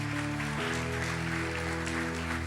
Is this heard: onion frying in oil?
no